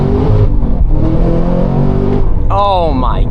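Modified 835 hp Cadillac CT5-V Blackwing V8 accelerating hard from inside the cabin, a loud rising engine howl that sweeps up through the gears, with someone talking over it.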